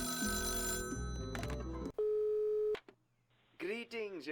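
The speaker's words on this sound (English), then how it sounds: "the phone's ringing" A telephone rings in the video game Rogue State: Glorious Leader, loud electronic trills in two bursts separated by a brief lull, followed by a voice speaking.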